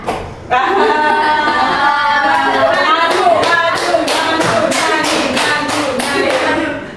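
Children in a classroom clap in a quick, steady rhythm, a dense run of sharp hand claps close by that fills the room, with a few voices mixed in.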